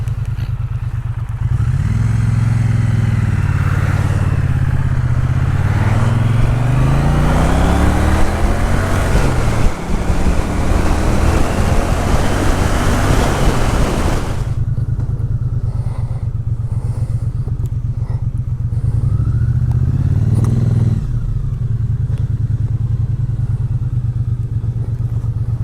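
A Triumph twin motorcycle, either a T100 or a Speed Twin, accelerates hard through the gears with rising engine notes and heavy wind buffeting, loud and close from the rider's position.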